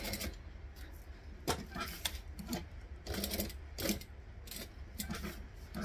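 A sewing machine stitches around a zipper in bursts of rapid mechanical whirring, pausing and restarting several times while the fabric is turned, close and moderately loud.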